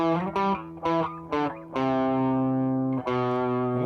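Distorted electric guitar plays a riff: several short punchy notes, then a long held note and a final sustained note, loud and close with no talking.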